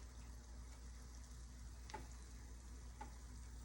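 Oil heats in a pan before squash goes in for Southern-style frying, giving a faint, steady low sizzle and bubbling with a couple of soft ticks.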